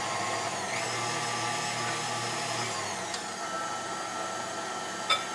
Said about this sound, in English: the rest of my flour with the dough hook on. And make sure you have your KitchenAid locked down.